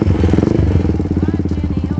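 A modified Thunder 250 motorcycle engine turns over and catches, settling into a close, loud, lumpy single-cylinder idle with rapid regular pulses.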